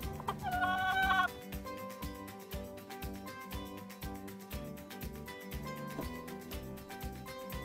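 A hen squawks in a short, loud, close burst of harsh cries at the start, followed by a steady rhythmic thumping pattern that carries on to the end.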